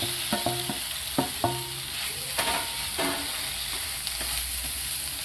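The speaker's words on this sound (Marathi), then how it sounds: "आपण आता त्यामध्ये कापलेले हे वांगे टाकू." Cut eggplant pieces are tossed into a frying pan with coriander and stirred, producing a steady hiss of frying beneath a handful of sharp scraping and knocking clinks from the spatula.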